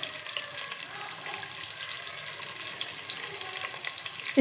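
Onions cooking in a pan for a meal maker curry give off a faint, steady sizzle with soft stirring, heard close and alone.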